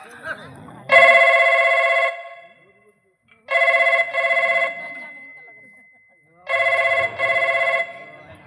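A telephone rings in three bursts of double trills separated by pauses, loud and close, with faint background noise between rings.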